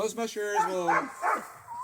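Alaskan sled dogs kept for the summer bark and yelp close by in a short, excited burst, with talk overlapping.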